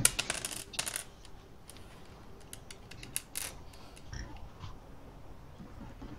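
A D20 die tumbles onto a tabletop during a Pathfinder pen-and-paper session, giving a burst of sharp clicking rattles at the start, then scattered faint ticks in a quiet room.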